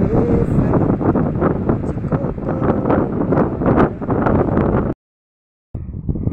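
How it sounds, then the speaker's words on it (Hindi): Strong, cool wind blows in the mountains, roaring steadily and buffeting the microphone for about five seconds, then cuts out abruptly before resuming more quietly. "ये देख रहे हैं बहुत तेज़ की हवा चल रही है पहाड़ों में"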